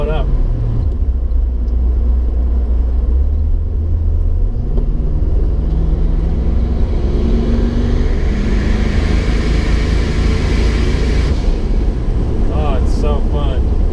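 Truck with a crate 350 small-block engine driving, a steady low engine rumble that climbs through gear changes with constant road and wind noise, fairly close.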